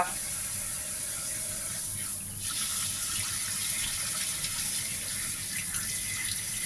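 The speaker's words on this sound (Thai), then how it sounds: "ล้างน้ำให้สะอาดก่อน" Tap water runs steadily over fresh mackerel being washed in a sink, a continuous hiss with faint clicks and handling sounds throughout.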